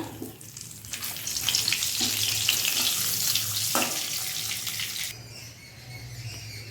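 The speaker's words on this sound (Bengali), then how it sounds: "তেলটা খুব ভালোভাবে গরম হয়ে যাক এবারে দিয়ে দেব দুটো শুকনো লঙ্কা তেজপাতা" Dried red chilies and a bay leaf sizzle in hot mustard oil in a fish kadai, a loud steady frying hiss with a few sharp crackles, dropping slightly near the end, with no talking.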